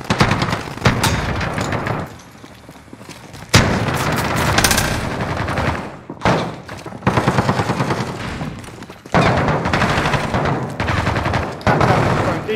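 Decoy grenade fake gunfire in a Warzone match: bursts of simulated automatic fire and single shots crackle repeatedly in irregular volleys, loud and close, with brief pauses between bursts.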